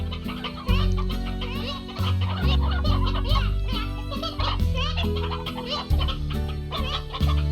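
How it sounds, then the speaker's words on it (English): Chickens cluck in busy, chattering bursts in the video game Slime Rancher over a bouncy backing tune with steady low notes, lively and close. "And our chickens are all happy."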